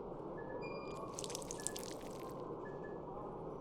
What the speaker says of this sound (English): I'll go and add some water.